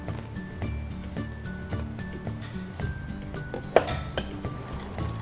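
Egg yolks, powdered sugar and corn flour get whisked in a bowl, with light rhythmic clinking against the sides over soft background music.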